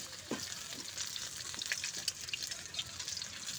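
Pumpkin leaf parcels filled with mustard paste fry gently in a little oil, making a soft, faint, even sizzle with small crackles. No voices.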